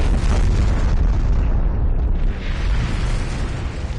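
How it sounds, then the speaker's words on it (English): A ship explodes in the video game Serve the Empire: a loud, close blast rolls into a sustained rumbling boom that barely fades over a few seconds. "Just in case that ship goes kaboom"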